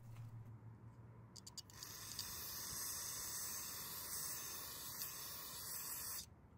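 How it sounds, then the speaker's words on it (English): Compressed air blasts into the crankcase of a Poulan blower vac during repair, a steady loud hiss lasting about four seconds after a few short bursts, then cutting off abruptly. "Now if you have some compressed air, that would be helpful."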